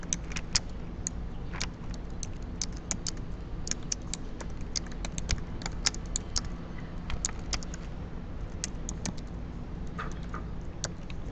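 Rapid keyboard typing with irregular clicks and key taps, close by, over a low steady background rumble.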